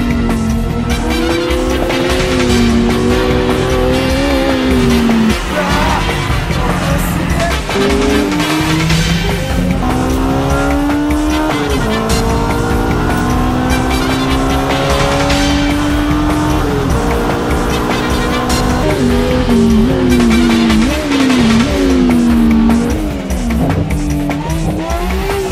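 Race cars chase hard along a mountain road, engines screaming loud and continuous with rising and falling revs through gear changes, tires squealing and skidding through the corners.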